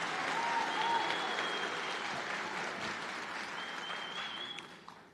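A hall full of people at a nursing white coat ceremony applauds, the dense clapping staying strong before it thins and fades near the end, with a couple of faint whistles over it.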